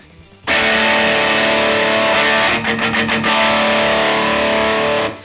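An electric guitar played through a Rat distortion pedal, thick and loud, with a sustained fuzzy chord ringing after a sharp attack and a short choppy strummed passage in the middle.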